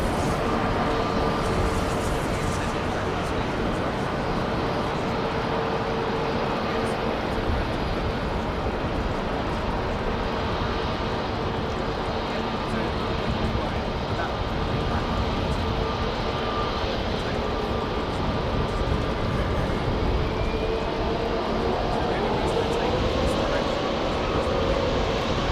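Jet engines of a KLM Boeing 747 rumble steadily and broadly at Heathrow as the heavy jet is pushed back, a constant loud roar with a voice speaking briefly over it.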